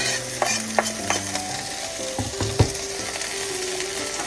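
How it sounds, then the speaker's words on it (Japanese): Chopped turnip leaves stir-fried in hot oil in a pan, a steady sizzle with scraping and clattering of the utensil, close and without talk. "このざく切りしたね、カブの葉っぱをここに入れていきます"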